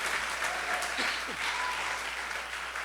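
Congregation at a church service applauding, a steady dense wash of many hands clapping that fills the space without pause.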